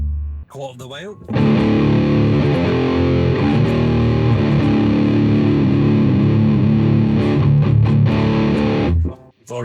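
Distorted electric guitar through a Marshall DSL pedal with the tone knob a quarter of the way up, playing loud, sustained fuzzy chords and riffs for about eight seconds after a brief lead-in, then stopping abruptly.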